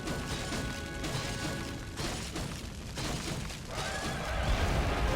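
Horse in the Soulcalibur III video game, a loud whinny followed by galloping hooves, clattering impacts and crashing battle effects within a busy, dense game soundscape.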